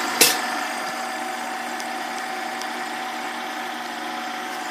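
A Bell and Howell 346A Super 8 projector motor runs slowly, as if going bad, with a steady mechanical hum and whir after a sharp click at the start.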